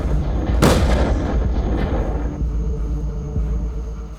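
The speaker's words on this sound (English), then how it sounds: "The explosion comes first, then the dust swallows everything." A FAB-3000 bomb detonates with a sudden heavy blast that booms loud and close, then rolls into a long, low rumbling roar that slowly fades.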